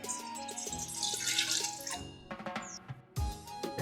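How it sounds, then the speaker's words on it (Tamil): Water runs from a tap and splashes into a metal pot, filling it with 6 litres for boiling, with a few clanks and clatters of cookware. Fairly quiet, no talking. "இப்போ நான் ஒரு பாத்திரத்தில் 6 லிட்டர் தண்ணி ஊற்றிக்கிறேன்."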